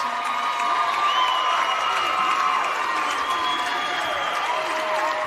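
Ice hockey arena crowd at a championship win, Melbourne Ice lifting the cup, applauding and cheering in a steady, loud, continuous roar with whoops and a few shouts rising over it.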